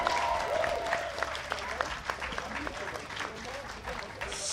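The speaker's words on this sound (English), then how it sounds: "can we please give one final round of applause for the Nottingham" Audience applause at an esports finals event, a sustained patter of many hands clapping across the whole stretch, with a voice speaking over it.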